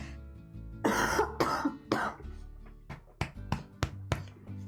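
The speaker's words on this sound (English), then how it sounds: "I just need to cough" A person coughs and clears their throat several times, a few heavy rasping coughs followed by shorter sharp ones, close to the microphone.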